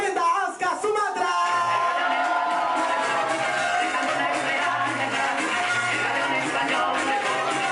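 A television comedy game-show studio audience applauds and cheers, a loud, dense, steady roar of clapping and crowd noise that runs the whole time without a break.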